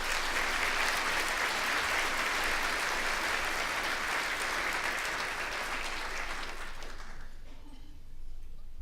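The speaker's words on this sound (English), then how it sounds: "And they deserve a round of applause." A conference audience claps for its past chairs, a sustained, fairly loud round of applause that fades out quickly near the end, leaving a quiet room.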